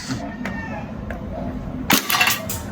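A DB M1911 silver airsoft gas blowback pistol fires, and its BB strikes a tin can, giving a few sharp cracking snaps and a cluster of bright metallic clanks near the end, set against steady background noise and speech.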